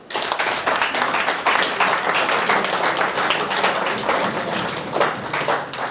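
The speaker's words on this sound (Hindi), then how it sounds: "इस मिल्क के लिए जोरदार ताली" Loud, sustained applause from an audience, dense steady clapping lasting several seconds, with no talk over it.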